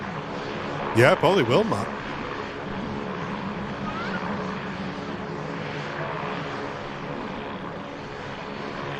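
Jet aircraft at Manchester Airport, a steady distant engine roar and hum under brief nearby talk, continuing evenly throughout.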